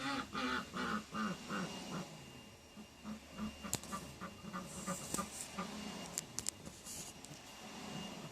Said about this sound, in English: they are normally constantly quacking.